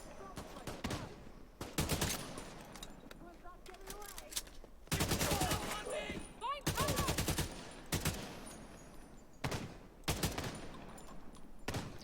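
AK rifle fire in The Division 2: loud, close bursts of rapid automatic shots in several volleys, with quieter gaps between them. Talking runs through the pauses.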